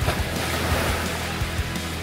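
Sea waves washing ashore at Oslob, Cebu at high tide, a steady broadband surf rush with soft low swells, close and continuous, with light wind on the microphone and no talk.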